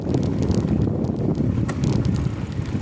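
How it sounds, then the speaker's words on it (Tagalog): Strong cold wind roars and buffets across the microphone in a dense, continuous rush, loud and unbroken throughout, with no voices. "Malakas ang hangin na malamig."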